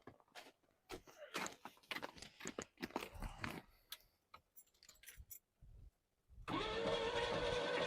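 A 1985 Pontiac Fiero is turned over, with clicks, clunks and shuffling first, then a loud, steady cranking whir from the engine bay that starts near the end and keeps going.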